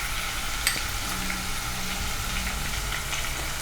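Asafoetida, finely chopped ginger and green chili sizzle in hot oil while making moong dal kachori filling, a steady close frying hiss with a faint stir around the middle, no talk.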